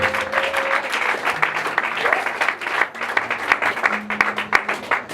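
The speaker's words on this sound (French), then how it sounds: "on les applaudit s'il vous plaît" Audience applause at a 40th-anniversary celebration for a cultural space, as poets step forward to recite: steady dense clapping from a crowd for about five seconds, with faint voices and a brief tone underneath.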